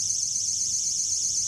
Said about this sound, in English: Darn door alarms.